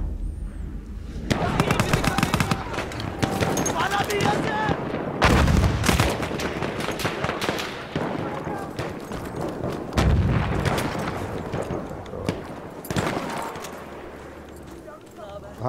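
Grenade blasts and rifle fire crack through a Battlefield 1 World War I battlefield, with several heavy explosions and scattered volleys spread across the stretch, mixed with frequent talking over the din.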